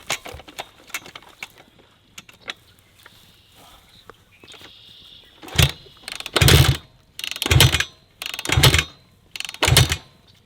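Dirt bike being kick-started, a series of about five loud rhythmic kick strokes with mechanical clatter, preceded by quieter clicks and rustling.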